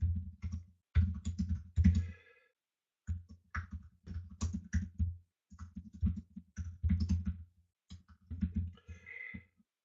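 Rapid clattering keystrokes on a computer keyboard as a message is typed, close and crisp, coming in uneven bursts separated by short pauses.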